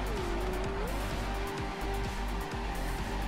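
Tyres squeal on and on as a powerful car drifts and spins in CarX Drift Racing Online, the engine droning loudly underneath with rising and falling pitch and no talk.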